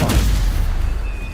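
A spell hits with a heavy, booming blast in the video game Hogwarts Legacy, a loud, short burst that decays quickly.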